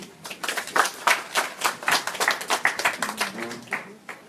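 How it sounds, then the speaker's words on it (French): A crowd at a political gathering for Laurent Gbagbo's Ivorian Popular Front claps in sharp, distinct bursts that swell and fade, close and fairly loud, with a voice briefly audible near the end. "on peut les applaudir"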